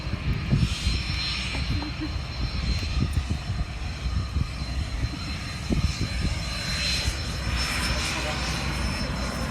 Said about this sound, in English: They just had a jet land.